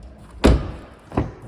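Two rear car doors of a Mercedes A200 Sport thud shut one after another, a loud solid slam followed about three-quarters of a second later by a softer second thump, both close by.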